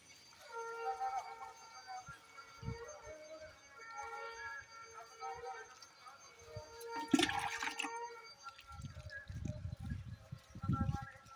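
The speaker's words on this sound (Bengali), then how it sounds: "এবার এখানে পুরো জল ভরে দেবো" Water poured into a pot holding a newly planted dragon fruit plant, a splashing, gurgling pour that swells midway and then settles into softer trickling, heard close, with a person talking over it.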